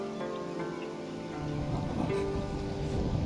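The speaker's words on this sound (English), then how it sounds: "Storm's coming in." Rain from an incoming storm in the video game Assassin's Creed Odyssey patters steadily at moderate volume over a low rumble, with faint musical tones underneath.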